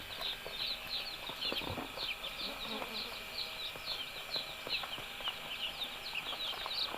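Steady high-pitched peeping of many Kadaknath chicks fills the background, with occasional clucks and light rustling throughout.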